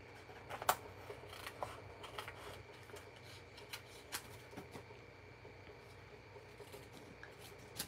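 Card stock being trimmed for a Stampin' Up box card, giving scattered faint snips and paper rustles with one sharper cut near the start, quiet and close, with no talking.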